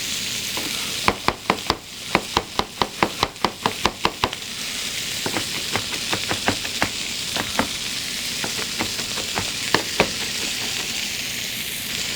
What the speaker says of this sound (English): After the meat browns on one side, then you turn it over and brown it on the other side.